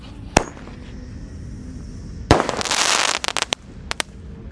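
A Golden Blitz firework goes off with a sharp single bang, then a dense burst of crackling and a few scattered pops, loud and close with no talking.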